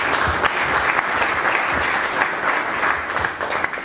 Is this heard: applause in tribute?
yes